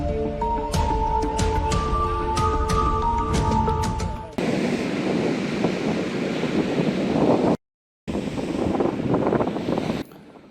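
Strong west wind and high waves on Kelan beach in Badung, Bali, during the rainy season, heard as loud continuous wind buffeting and surf roar with a brief break in the middle.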